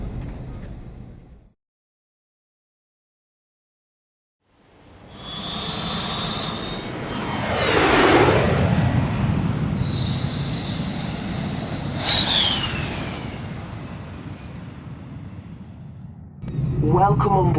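A Ryanair Boeing 737-800 jet spools up for takeoff from the cabin, its engines rising into a loud, steady roar with whining tones and a sweeping pitch change, briefly interrupted by silence and followed by talk.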